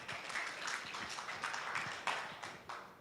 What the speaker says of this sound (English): please give a round of applause to Miss Catherine